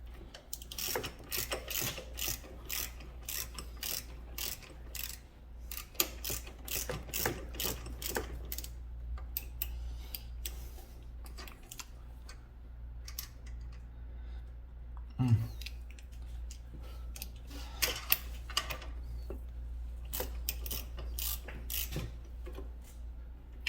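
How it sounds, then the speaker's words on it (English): A hand ratchet works loose a 12 mm bolt on the alternator tensioner of a 2001-2007 Subaru Impreza WRX, giving bursts of rapid clicking pawl ticks with pauses, close and fairly loud over a low engine-bay hum. "Start by loosening this little 12 mil."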